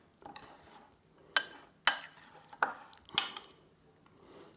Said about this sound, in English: So that you properly and thoroughly mix the tuna fish and cottage cheese together